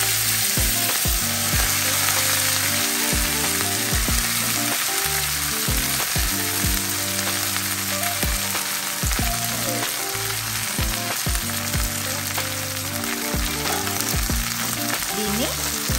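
Fresh coriander leaves frying in hot oil for a coriander chutney, a loud continuous sizzle and crackle over a steady low mechanical hum.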